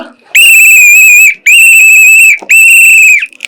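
A whistle shrills loudly three times in close succession, each long steady blast lasting about a second with a brief gap between, shown up close and very loud.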